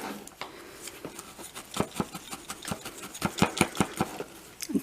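A felting needle stabs repeatedly into wool fibres as a teddy bear ball is shaped, a rapid train of soft, dull pokes and scratchy rustles, close to the ear and steady, with no talking.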